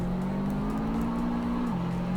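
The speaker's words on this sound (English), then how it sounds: "rev it all the way up as far as we can" A 1990 Honda CR-X Si-R engine in the Roblox game Greenville drones at a steady held pitch that dips slightly near the end, over a constant background rush.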